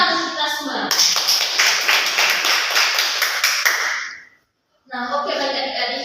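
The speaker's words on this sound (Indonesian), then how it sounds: "Tepuk tangan untuk kita semua." A class of children claps together during an Indonesian language lesson, a dense, close burst of many hands lasting about three seconds. Speech is heard before and after the clapping.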